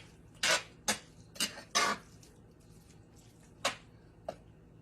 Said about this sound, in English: I'm going to stir this really good with a spoon.